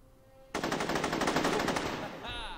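Rapid automatic bursts from an AK assault rifle in a video game, a loud continuous string of close shots lasting about two seconds, followed by a brief metallic ringing tail.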